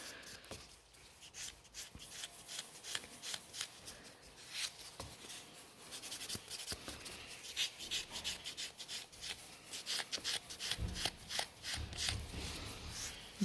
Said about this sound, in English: Buffing the nail fold.